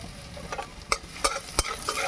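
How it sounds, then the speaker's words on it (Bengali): Chopped garlic and ginger sizzle steadily in hot oil, with a few sharp, close clicks and scrapes of a spatula stirring the pan at irregular intervals. "আদা আর রসুনটাকে ভালো করে ভেজে নেব।"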